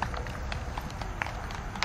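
Horse hooves clip-clopping during an eventing competition, a steady rapid patter of hoofbeats heard at moderate distance over a continuous low outdoor rumble.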